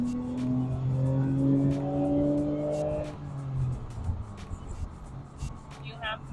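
A stock twin-turbo Nissan Skyline GT-R R34 accelerates with a loud, rising engine note that fades after a few seconds, leaving road and engine noise behind.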